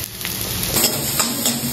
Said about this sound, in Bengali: এখানে পেঁয়াজটা ভাজছি